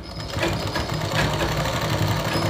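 A sewing machine stitches a seam, its motor whirring in a fast, even mechanical chatter that runs steadily close up for the whole stretch, with no voices over it.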